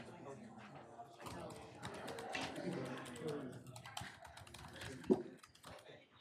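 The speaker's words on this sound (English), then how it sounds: "Is that typical typing volume?" Computer keyboard typing during a board of education meeting, a steady patter of soft keystrokes in a room under murmured talk and background noise.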